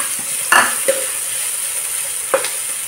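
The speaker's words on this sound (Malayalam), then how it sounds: "നന്നായിട്ടൊന്ന് സവാള വഴഞ്ഞ് വരണം." Chopped onions sauté in a pan, giving a steady hiss of frying with a few sharp clinks of a spoon stirring against the pan, close by and without talking.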